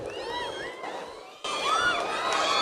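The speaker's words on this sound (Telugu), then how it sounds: "మీరు చప్పట్లు కొడుతుంటే" An audience at a university speech at Andhra University cheers and whoops in a loud, lively burst that jumps in level partway through and keeps going.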